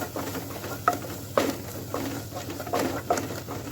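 Chilli and garam masala are stirred into frying egg curry masala: a soft sizzle under repeated scraping stirs, with about six distinct clinks of the spoon against the pan.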